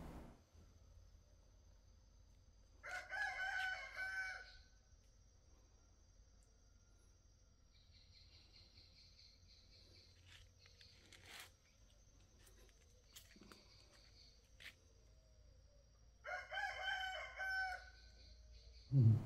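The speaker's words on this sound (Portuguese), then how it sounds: "Aí o galo cantou" A rooster crows twice at dawn on a rural farm in the interior of São Paulo, Brazil, each crow long and loud against a quiet morning with faint distant birds between them.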